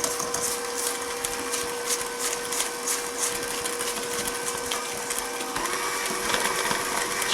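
An electric mixer whirs steadily as it blends muffin batter with vanilla, a continuous mid-level motor drone with a faint rhythmic beating that shifts slightly in pitch near the end, with no talking.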